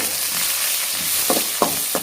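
Onion and tomato frying in a pan for a Tamil dry fish gravy (karuvattu kuzhambu), a steady close sizzle with a few brief stirring scrapes near the end.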